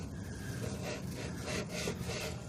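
A toothless hot knife slowly cuts while working on a 1976 Ford F250, giving a continuous close rubbing, rasping scrape with slight rhythmic swells.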